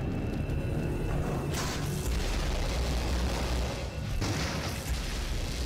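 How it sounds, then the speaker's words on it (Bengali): A bomb blast in a Skibidi Toilet animation, heard as a loud, dense, continuous boom and rumble filling the whole stretch, with brief shifts in texture partway through and no talk. "বম দিয়ে দিল দেখো, তাও কিছু হয় না ভাই।"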